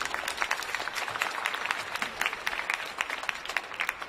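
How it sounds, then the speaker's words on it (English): An audience at a high school senior awards ceremony applauds with dense, continuous clapping of many hands, steady and moderately loud for the whole stretch. "Let's give them a round of applause."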